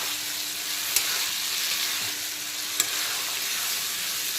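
Fried potatoes hiss and crackle in a pan of cooked-down spice masala for a fish curry, a steady close sizzle with two faint clinks of a spatula and no voices.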